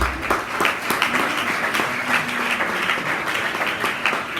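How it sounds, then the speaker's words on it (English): At a state government award ceremony for an academic quiz competition, a hall audience claps steadily in continuous, moderately loud applause for over four seconds. "I want to particularly want this House to clap for SA Students Advocacy, Abasiofiok."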